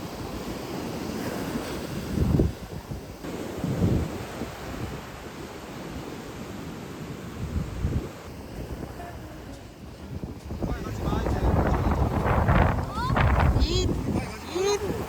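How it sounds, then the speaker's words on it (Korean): Heavy ocean surf crashes and rolls repeatedly, loud and close, with gusty wind buffeting the microphone throughout. "파도 진짜 세다."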